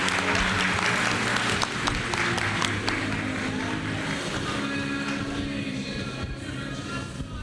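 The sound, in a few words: audience applause at a conference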